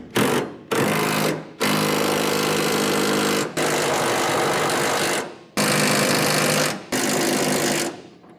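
Impact wrench hammering on a 1979 Ford rear-end job, running in six long loud bursts separated by brief pauses, close and alone without speech.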